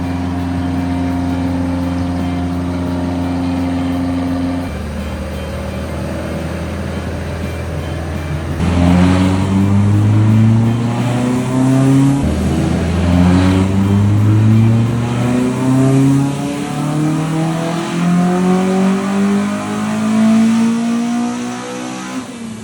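A BMW M44 four-cylinder engine in an M42/M44 hybrid build revs hard on a dyno in Cape Town, rising in repeated climbing sweeps after a steady idle, loud and close throughout.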